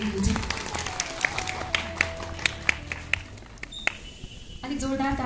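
Audience clapping welcomes a judge at a district youth festival. Scattered, sharp claps sound at a moderate distance, with voices talking through them.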